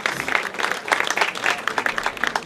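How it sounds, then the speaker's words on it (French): An audience applauds the architect Elie Marouani at the inauguration of the Optical Center foundation, a burst of dense clapping from a crowd, close and steady, with a voice faintly underneath. "notre architecte, Elie Marouani, que je vous demande d'applaudir"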